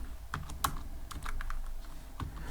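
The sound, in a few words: typing Python code on a computer keyboard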